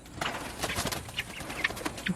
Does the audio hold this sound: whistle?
no